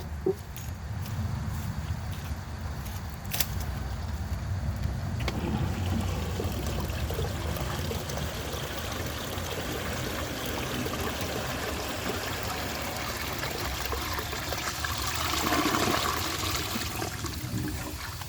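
A 1910 Ahrens & Ott Leader toilet flushes in a long, steady rush of water that runs on loud and continuous for many seconds, rising near the end, with no talk over it.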